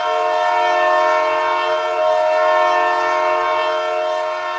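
The Tejas Express leaves a station on the New Delhi to Lucknow route, its horn sounding as a long, loud sustained tone over the rolling rumble of the carriages, with no talking.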